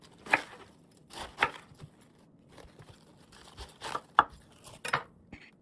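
Knife cutting fresh cabbage into smaller pieces for blending into fufu, heard as about six crisp crunching chops spaced irregularly, close and fairly quiet with no talking.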